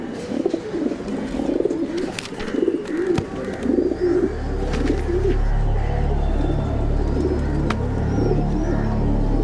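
Pigeons coo repeatedly in soft, throaty bursts close by, over steady outdoor hum and a low rumble that grows in the second half.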